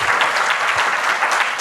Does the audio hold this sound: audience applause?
yes